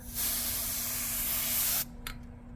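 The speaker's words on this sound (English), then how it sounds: "I got my little bottle of compressed air here" A single sustained burst from a small bottle of compressed air, hissing loudly for under two seconds during an iPhone 13 screen replacement, followed by a brief short puff.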